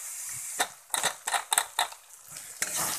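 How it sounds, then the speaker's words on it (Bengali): Ginger frying in a pan in a home kitchen, with a series of sharp stirring scrapes and clinks over a faint, steady sizzle. No one speaks. "তো এখন এটাকে আমি আদাটাকে ভেজে নিচ্ছি"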